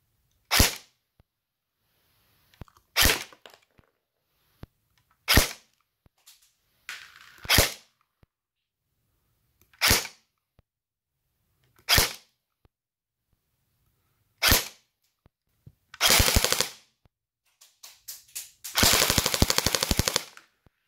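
Cyma Colt CM.128 AEP airsoft pistol firing over a chronograph, a series of sharp, close single shots spaced a couple of seconds apart, ending in two quick rapid-fire bursts, with no talking.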